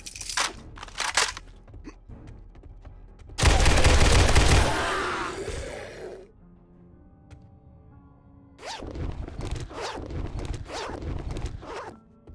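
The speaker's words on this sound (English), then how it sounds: "Let's shoot up the rest of the cheap ammo." Gunfire in the video game 7 Days to Die comes as scattered single shots, then a loud sustained burst of rapid fire that tails off, followed by quiet and then another stretch of repeated shots.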